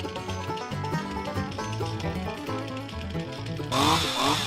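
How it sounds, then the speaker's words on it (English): A gasoline chainsaw engine runs steadily with a buzzing drone, then revs up sharply near the end as it is accelerated to warm up. "accelerate the chainsaw a few times to warm up the engine"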